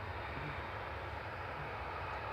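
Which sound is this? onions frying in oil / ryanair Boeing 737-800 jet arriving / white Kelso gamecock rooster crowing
ryanair Boeing 737-800 jet arriving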